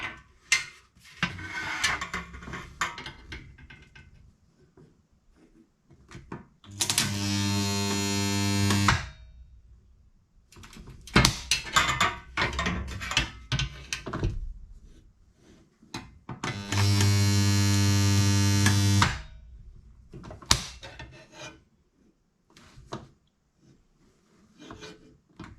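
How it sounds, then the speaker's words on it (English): A spot welder joining blanks onto a Classic Mini body gives two loud, steady electrical buzzes of about two seconds each, with scattered metallic clatter and handling noise between them. "This is nice and quick when we're using the spot welder."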